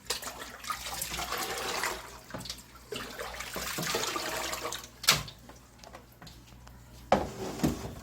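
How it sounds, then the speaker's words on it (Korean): Water pours steadily into a guppy fish tank for about five seconds, then stops, leaving a few splashes and drips up close. "물 넣어줍니다."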